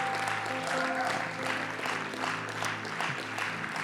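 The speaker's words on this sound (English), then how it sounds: "if you are not jealous, you can clap better" Audience clapping at a church gathering, a steady broadband patter of many hands filling the room over a low sustained organ or keyboard tone.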